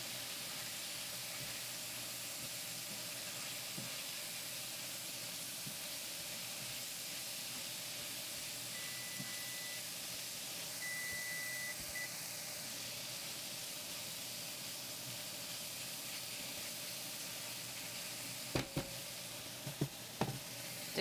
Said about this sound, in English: Can you hear those sizzles?